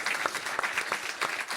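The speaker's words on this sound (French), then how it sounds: "On va t'applaudir" A short burst of applause on a sailing podcast, brisk uneven clapping from a few people heard faintly for under two seconds.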